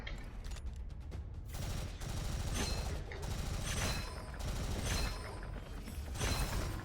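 Rapid video game gunfire hammers away at monsters in repeated dense volleys with brief gaps, loud and continuous, joined by mechanical clanks and small impacts and no speech.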